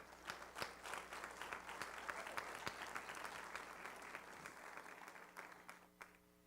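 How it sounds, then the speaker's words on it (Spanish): A congregation applauds at a Sunday general meeting of a church, a steady wash of many hands clapping that fills the room, then thins and tapers toward the end. "Denle un aplauso al Señor."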